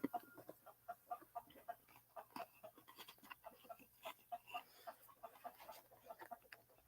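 Backyard chickens roaming in the dark outside at night, clucking steadily in soft, repeated bursts, faint and somewhat distant against quiet surroundings.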